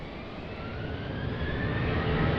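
A plane takes off at Lisbon Airport in a crosswind, a broad, steady jet roar that swells slowly over a couple of seconds, heard from some distance with no voices.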